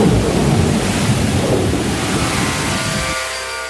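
Stormy weather sound effect: loud continuous rain and gusting wind with a deep rumble of thunder, fading slightly toward the end.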